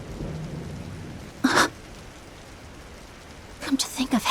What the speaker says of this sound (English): Rain?